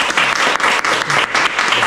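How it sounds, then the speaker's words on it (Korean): An audience at a church teacher-training session applauds kindergarten teachers with a brief, dense, steady burst of clapping, close and loud throughout. "우리 좀 수고해 주신 유치원 선생님 박수 한번"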